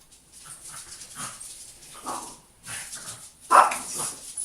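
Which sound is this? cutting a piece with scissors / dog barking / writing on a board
dog barking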